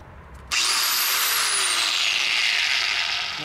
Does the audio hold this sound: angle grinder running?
yes